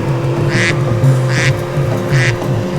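Three evenly spaced quacks from a Robo Duck Max robotic toy duck, each short and bright, loud and close over a steady low electrical hum.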